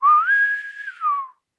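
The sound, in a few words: person whistling, heard from the woods in a D&D livestream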